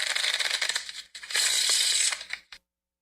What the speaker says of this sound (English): It sounds like someone shuffling a deck of cards.